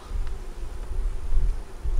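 Honey bees hum in a steady, dense buzz close by at the hive during winter sugar feeding, a constant low drone with no voices.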